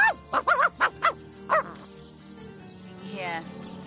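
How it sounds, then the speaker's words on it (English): An agitated dog in the video game Divinity: Original Sin Enhanced Edition lets out about five sharp, yippy barks in quick succession, then trails off into a softer whining whimper over a low ambient game background. "Looks like that dog is awfully agitated."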